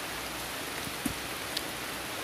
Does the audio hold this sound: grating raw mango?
no